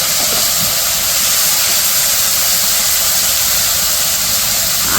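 Loud, steady hissing sizzle throughout as spices, ginger-garlic paste, onion and green chilli fry hard in a hot pan, with no pauses.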